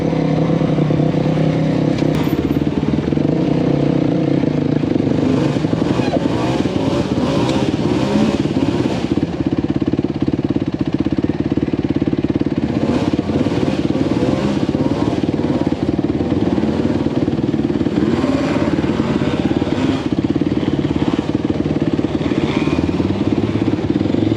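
Off-road dirt bikes and side-by-sides grinding up a dusty trail hill at a Kentucky riding event, a loud continuous engine drone with surging revs and rattling clatter throughout, no speech.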